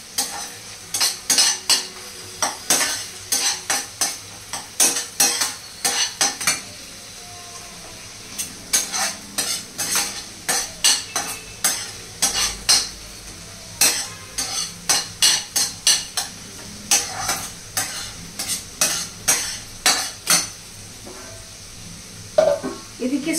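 Chicken with ginger-garlic paste sautés in a pan under a steady sizzle, while a utensil scrapes and stirs in quick, repeated strokes, sometimes in bursts, close up and with no talking.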